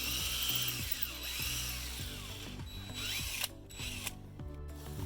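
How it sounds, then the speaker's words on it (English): A power drill with a masonry bit boring a pilot hole through a 4-inch-thick brick, a loud, continuous whining grind with rhythmic pulsing and a few sharp clicks near the end. "The brick is about 4 inches in thickness. You need to drill all the way in."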